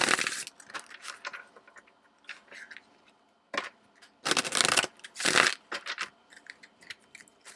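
Angel number tarot cards being shuffled up close, with papery riffles and scrapes arriving in uneven bursts separated by quiet gaps, no talking.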